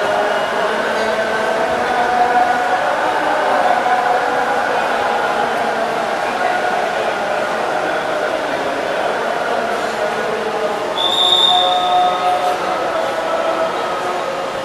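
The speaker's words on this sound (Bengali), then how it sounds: "মেট্রো রেল সুন্দর জার্নির।" Metro rail carriage in motion: a steady, close rumble and hiss fill the whole ride, with thin tonal whines rising above it and faint voices murmuring in the background.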